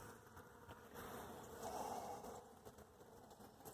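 Honey bees buzz around a hive knocked over by a 60 mph storm, a dense, steady hum of many insects that swells for a moment mid-clip, heard alone without talk.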